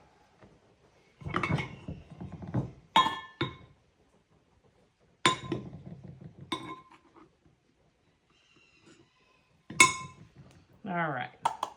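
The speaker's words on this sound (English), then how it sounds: "This time I'm going to level it off in my flour bowl." A measuring cup of flour being leveled off over a flour bowl: a few close scraping bursts and sharp clinks of utensil against bowl, spaced apart, with a voice speaking between them.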